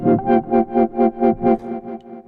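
An Arturia PolyBrute synthesizer playing a repeating pulsed tone through a delay effect, seven or so rhythmic rich harmonic notes evenly spaced, then echoes trailing off and fading at the end.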